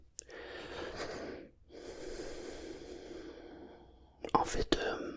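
A person takes a deep breath in through the nose, a soft airy inhale that swells and fades, followed by a second breath and a few sharper sniffs and snorts up close.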